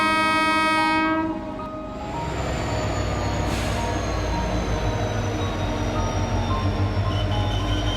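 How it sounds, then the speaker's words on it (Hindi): A railway locomotive horn sounds loud and steady for about a second, then a long train rumbles on with its wheels running and a faint higher whistle tone carrying over the rolling noise. "ये सीटी सुनकर गाड़ी के पीछे लगा बैंकर लोकोमोटिव भी छोटी सीटी देकर चलने की सहमति देता है।"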